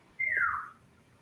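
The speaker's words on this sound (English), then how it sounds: "And he's whistling at us." A single short whistle from a person, a bright falling note lasting about half a second, fairly faint against a quiet background.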